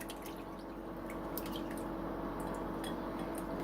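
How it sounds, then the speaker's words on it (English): Soup and milk poured over chicken in a baking dish, a steady wet splashing and dripping pour that runs continuously at close range, alone without talk. "pour your soup and milk all over"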